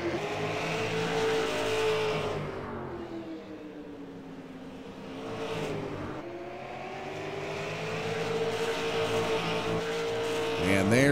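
Race cars lapping the Las Vegas Bullring, engines rising and falling in pitch as cars sweep past, loud then fading in the middle before swelling again, under a race commentator's voice.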